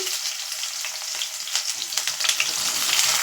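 Fish frying in hot oil, a close, crackling sizzle with spitting pops that grows a little busier toward the end, no voices.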